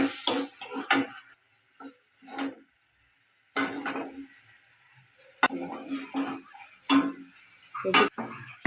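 Chicken mince being cooked and stirred in a pan, with repeated scraping stirs and soft clatter in short bursts against a quiet background, separated by pauses.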